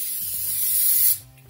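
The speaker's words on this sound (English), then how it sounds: "we're just gonna spray it like this" Cooking oil sprayed from a can onto steak and cheese egg rolls before they go into an air fryer oven: one close, steady hissing burst of about a second that cuts off abruptly.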